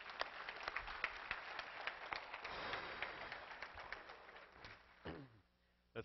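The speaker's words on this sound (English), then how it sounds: "Let's give him a clap of praise" Scattered applause from a church congregation, individual claps clearly spaced at first and thinning out, quieting to near silence before a brief closing sound.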